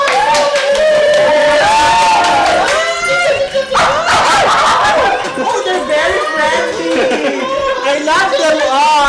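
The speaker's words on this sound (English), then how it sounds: "Oh, the dogs are very cute!" Several dogs bark and yip close by with a few whimpers, mixed in with a crowd of people chattering and talking loudly.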